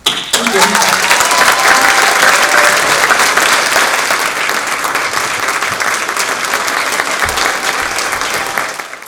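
Loud, sustained applause from a large crowd at an annual celebration gala, a thick wash of clapping that holds steady for around nine seconds before tapering off, with faint voices and cheers mixed in.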